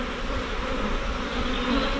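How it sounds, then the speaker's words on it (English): A dense, steady buzz of honey bees swarms close around an open hive during a colony inspection, a continuous droning hum with no pauses. "A lot of bees here, awful lot."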